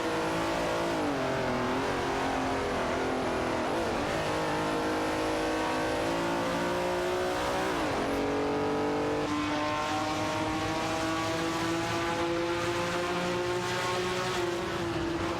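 Race cars roar continuously around the track in an AI racing game, engines whining and shifting pitch as they accelerate and change gears, loud and dense with several cars overlapping; no voices.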